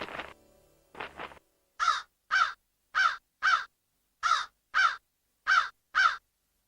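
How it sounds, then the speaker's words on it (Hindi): A crow caws in clear, harsh calls, mostly in quick pairs, repeating about ten times with short silences between, close and alone. "क्या तुम इस कौवे की भाषा समझ सकते हो"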